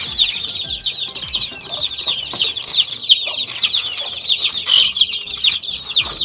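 Chickens and chicks cluck and peep busily together at feeding time on a farm, a dense, continuous chorus of high chirps and clucks close by, with occasional wing flaps.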